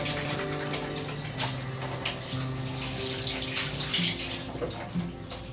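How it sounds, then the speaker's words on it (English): Hands being washed under a running tap in a kitchen before cooking surf and turf, a steady close rush of water with shifting splashes as the hands move through the stream. "So first we're going to wash our hands."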